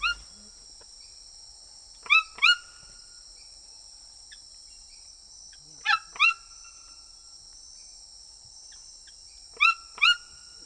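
A pet toucan gives three short paired bursts of bright, harsh calls, each pair a quick double note, fairly close and spaced several seconds apart over a steady high insect-like hiss.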